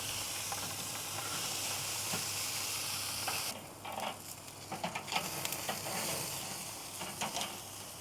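Tomapork chops searing on a Weber Summit Kamado grill outdoors at dusk, giving a steady broadband hiss and sizzle that eases partway through and then crackles in uneven bursts.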